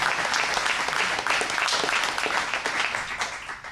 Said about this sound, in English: I was waiting for applause